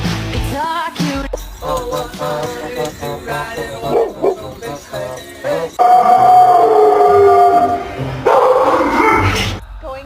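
A dog chasing through a pile of leaves, its barks and yips mixed under loud background music, with a sustained howl-like stretch near the end.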